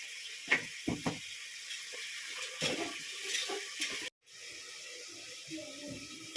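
Water is poured into a pressure cooker holding chicken, coming as short splashy bursts, then a steadier hissing stream that cuts off abruptly before resuming more softly; the sound is close and fairly quiet.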